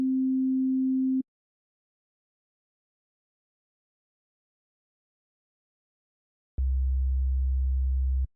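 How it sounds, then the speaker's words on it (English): A pure sub-bass sine tone, tuned two octaves down, anchors an ambient backrooms-style track. It drones steadily for about a second, then after a long silence a deeper sustained tone returns near the end, clean and isolated. "It's probably the easiest sound to create since it's a simple sine wave tuned 2 octaves down."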